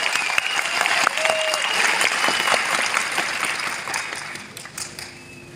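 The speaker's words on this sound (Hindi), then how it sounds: "एक जोरदार तालियां इंडिया ग्रो के लिए जो है ब्रांड ऑफ द फ्यूचर।" Loud audience applause fills a direct selling industry event hall, dense clapping sustained before gradually thinning and fading near the end.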